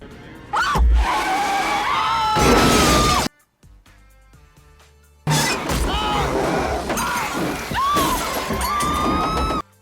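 A film car crash where a car hits a deer: loud bursts of impact, shattering glass and skidding, broken by a brief silence, then another chaotic stretch of crashing noise.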